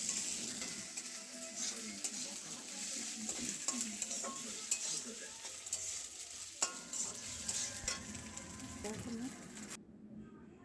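Food fries and sizzles in a home kitchen where meat, dal and fried dishes are cooked for a Bhai Phonta family gathering, with steady sizzling, utensil stirring and clinks, and people talking in the background.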